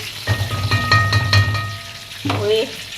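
Onion is mixed and fried in a pan, with several clanking, ringing strokes of a utensil against the metal over a low frying hiss, loud and close, and a brief gap before one last scrape.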